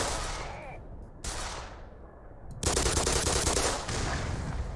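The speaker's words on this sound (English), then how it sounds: "he is shooting me with a shotgun" A shotgun fires in the video game Black Mesa. Several loud, close blasts sound in quick bursts, each with a sharp crack and a ringing tail, and the firing grows heavier toward the end.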